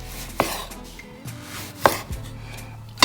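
A knife chops through a tomato on a board in three sharp, separate thuds spaced about a second or more apart, with quiet handling sounds between the cuts.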